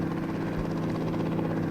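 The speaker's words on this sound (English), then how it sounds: "he's full on just driving the freaking helicopter" A helicopter flies in High School Simulator 2018, a steady, loud rotor-and-engine drone with a low, pulsing thrum that holds constant throughout, with no voices.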